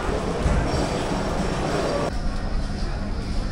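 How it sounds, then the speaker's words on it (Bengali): A local train on the line from Sealdah to Namkhana, heard from on board as a loud, steady rumble of wheels on rails with rattling carriages, dropping off slightly partway through. "আজকে আমরা যাব হচ্ছে এই ট্রেনে করেই"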